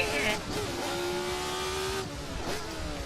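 Sim racing game audio of a 1970s Formula 1 car, its engine revving loud and close with rising and falling pitch sweeps, sharp throttle blips at the start and near the end, steady high drone in between.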